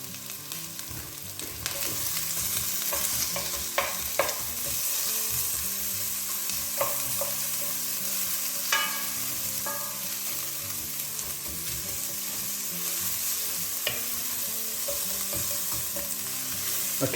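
Finely sliced onion fries in a little hot oil in a pan for a Chinese chicken curry, producing a constant close sizzle with occasional clinks and scrapes of stirring.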